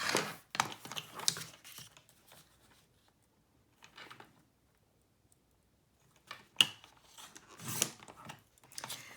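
Scissors snip through a paper craft tag at close range in a few short cutting strokes, separated by quiet pauses.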